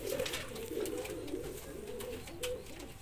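A pigeon coos in low, throaty repeated calls, close by, with faint clicks and rustling around it.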